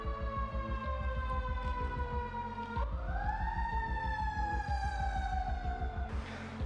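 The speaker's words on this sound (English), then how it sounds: "Sirens outside." A wailing siren rises and falls outside an old abandoned theater over a low, rhythmic engine throb, moderately loud and continuous, with no voices.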